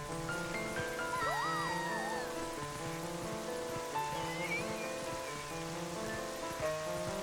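Steady rain falls in the video game The Legend of Zelda: Twilight Princess, a constant wash of hiss beneath layered tonal game music with drifting melodic lines, no talking over it.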